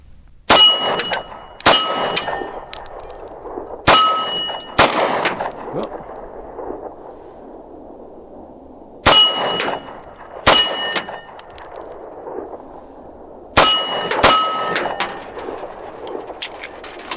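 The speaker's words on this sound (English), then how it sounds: "I'm gonna fire a few rounds at that steel plate." Nine-millimetre rounds from an FN Reflex pistol fired at a steel plate at an outdoor range: six sharp shots in pairs and singles, each followed by a bright metallic clang off the plate, loud and close with ringing decay between them.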